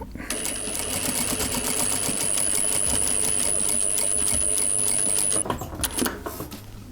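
A domestic sewing machine stitches a Burda 7142 coat at steady speed for about five seconds, a rapid rhythmic clatter with a high whine, close up, then stopping with a couple of clicks.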